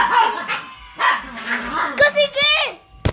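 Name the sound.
dog barking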